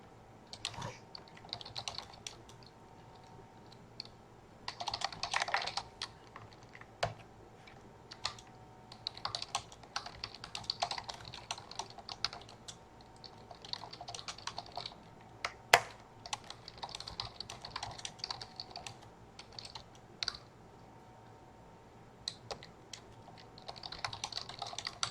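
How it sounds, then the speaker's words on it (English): Continuous typing on a computer keyboard while writing Python code comments, with irregular bursts of close key clicks and brief pauses between runs over a quiet background. "Even as I was typing that"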